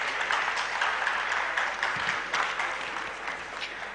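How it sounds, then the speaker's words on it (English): Audience applause in an event hall at a physiotherapy conference: a steady, moderately loud mass of clapping from many people, swelling slightly in places and tapering toward the end. "Can we have a round of applause to all of you present in the hall?"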